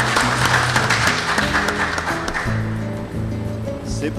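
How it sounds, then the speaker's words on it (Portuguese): Applause from a seated audience at a design and creative-economy panel, welcoming a speaker; broad, sustained clapping that gradually thins out, with background music and a voice underneath. "Palmas, por favor, Lincoln Seragine."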